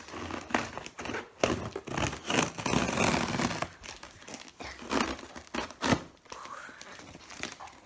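Plastic wrapping and cardboard crinkle and tear as a delivered synthesizer package is opened, in close, irregular bursts of rustling with brief pauses between.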